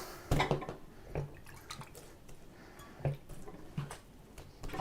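Water splashed and poured by hand over sheets of wet parchment paper in a kitchen, heard as a few soft, scattered drips and wet squishes with quiet gaps between them, close by and fairly faint.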